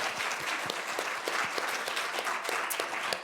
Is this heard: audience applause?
yes